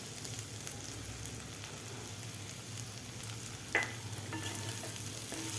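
Dry brinjal curry with crushed peanuts and coriander being stirred in a pan, a steady low scraping and faint sizzle with one sharp utensil knock near the middle.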